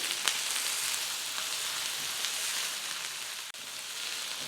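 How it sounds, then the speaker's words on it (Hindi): Chopped onion hitting hot oil gives a soft, steady sizzle. It stays faint and even for a few seconds, broken by one brief clack near the end, with no talking. "अब इसमें हम डाल देंगे कटा हुआ प्याज। हल्का सा इसको हम फ्राई करेंगे।"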